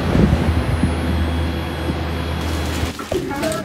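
Steady broadband roar of jet engines fills an airplane cabin, loud and continuous, with a brief shift near the end.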